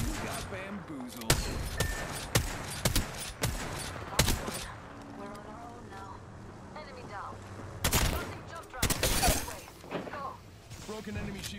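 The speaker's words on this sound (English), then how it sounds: "Shots fired. I'm down. They're shooting at me." Gunfire in the Apex Legends battle royale game, heard as sharp bursts of shots scattered through the clip, loud and close in places, with voices talking over much of it.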